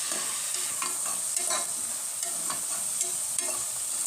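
Green peas, brinjal and onion fry in oil with a steady, even sizzle, while a spoon stirs and taps lightly against the pan now and then; no one speaks.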